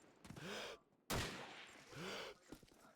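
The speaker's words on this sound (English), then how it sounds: "Etna with a very nice shot on Tajumi" Gunfire in the shooter game Call of Duty 2 during a tournament match, a few sharp, loud shots and bursts under a caster's excited commentary.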